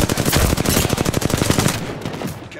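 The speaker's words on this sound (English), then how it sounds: "Shots fired at me" Rapid automatic gunfire in the video game Apex Legends, a loud, close burst of fast repeated shots that tails off at the end.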